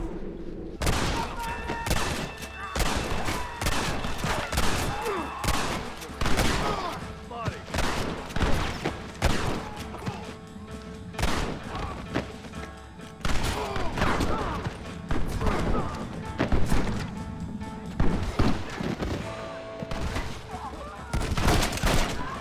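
Dense gunfire from Red Dead Redemption on Xbox 360: rapid, overlapping shots and volleys keep cracking throughout, loud and near, with shouting voices mixed into the battle.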